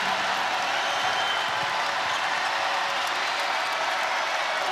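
A crowd at an NC State versus Wake Forest women's college basketball game cheers and applauds, a steady, dense roar of many voices and clapping that holds evenly at full level throughout.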